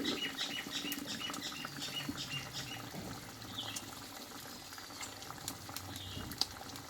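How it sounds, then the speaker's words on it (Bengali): Thin fish broth bubbles at a rolling boil in a pot, a continuous soft gurgling and simmering hiss heard close up with no talk. "দেখো বন্ধুরা আমার ঝোলটা কিন্তু ফুটে গেছে"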